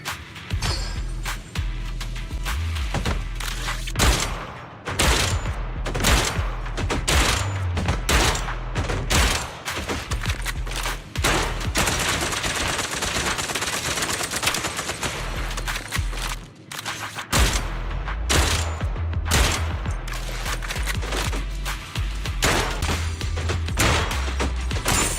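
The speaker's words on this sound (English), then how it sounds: "I'm gonna continue shooting until the end, just so we can finish everything." Video game shooting keeps up a dense, continuous barrage of loud gunfire for about 25 seconds, shots packed tightly together with only a brief lull partway through.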